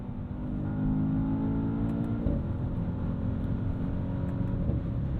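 Engine of a 2020 Mercedes-Benz S63 AMG revving after downshifts, a loud, steady low-pitched roar with a few rising rev swells and a sharp blip midway, heard alone from inside the car.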